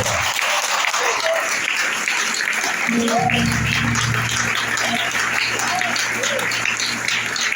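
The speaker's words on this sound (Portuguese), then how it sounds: "Você pode desocupar a sua mão e, por gentileza, aplaudir a palavra" A church congregation at a communion service breaks into sustained applause, a broad, even roar of clapping with an organ or keyboard tone entering partway through.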